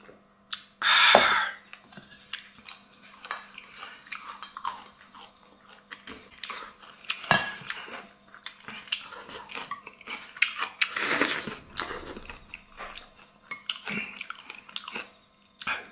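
Someone chews dried fish with small chili peppers dipped in sauce, giving close, crisp biting crunches and wet chewing in irregular bursts, with quiet clinks of dishes between.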